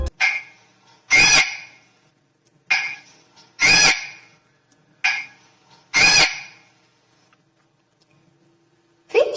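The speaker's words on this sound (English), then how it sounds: "Parrot sounds as" A parrot calls in five loud, harsh squawks, some in quick pairs, separated by short silences and heard up close on its own.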